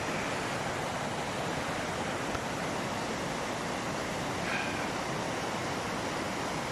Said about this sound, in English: The river's nice and rough today.